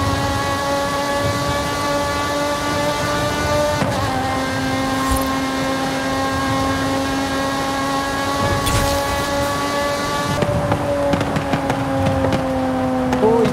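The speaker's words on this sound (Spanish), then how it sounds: "qué rico pedorrea también el coche" A simulated car engine in a racing game, said to sound like a Formula 1 V10, drones at steady revs, then shifts pitch with crackling pops around the middle and near the end.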